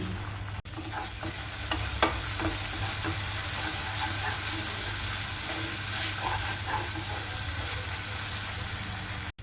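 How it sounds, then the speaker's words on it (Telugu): Tomato paste and ginger garlic paste frying for tomato rice, a steady close sizzle running throughout with light stirring scrapes and occasional spoon taps, no speech. "టమాటో పేస్ట్, అల్లం వెల్లుల్లి పేస్ట్ పచ్చి వాసన పోయే వరకు బాగా ఫ్రై చేసుకోవాలి."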